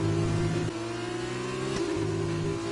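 An F2 race car engine in F1 2020 at Bahrain accelerates hard out of turn one, a steady high-pitched whine with a quick gear-shift step partway through, loud and close with no talk.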